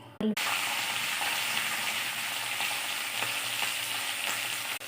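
Green chillies sizzle steadily in hot oil in a pan while tomato pachadi is being made. A constant, close frying hiss follows a brief clatter as they go in, with a few soft stirring knocks.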